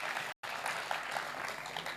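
Audience applauding at a Hindi poetry recital, a kavi sammelan, a dense, lively clatter of clapping that carries on steadily, broken by one very short dropout near the start.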